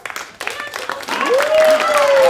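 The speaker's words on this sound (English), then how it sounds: "why don't we give a big round of applause to our host" Audience applause for the host at the 2014 Milwaukee Comedy Festival builds from scattered early claps into a dense, steady ovation, with cheering voices rising over it in the second half.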